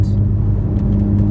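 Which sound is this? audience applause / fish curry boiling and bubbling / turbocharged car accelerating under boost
turbocharged car accelerating under boost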